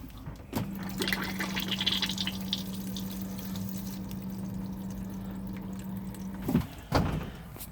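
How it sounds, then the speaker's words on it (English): Electric cassette toilet in a caravan flushes at a button press, giving a steady pump hum with rushing water for about six seconds before stopping with a couple of clunks. "So to use the flush, simply hold the blue button down in here."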